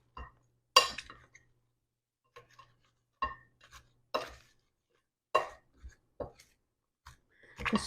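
Salted zucchini slices being tossed in a bowl produce sparse, close clinks and soft scraping knocks in irregular bursts separated by near silence, quiet and with no talking.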